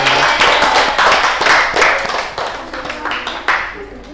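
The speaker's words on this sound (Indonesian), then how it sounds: "beri tepuk tangan" Clapping from a classroom of students during a microteaching lesson on tayammum, loose and uneven at first, then thinning out into a few scattered claps.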